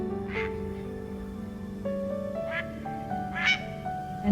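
Ducks quack a few times, the calls spaced apart and moderately close over steady tonal background music. No one speaks.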